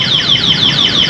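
Anti-theft alarm on an NWOW ERVS2 electric vehicle, a loud, close electronic siren sweeping downward in rapid repeating whoops, about five cycles in quick succession with no voices over it.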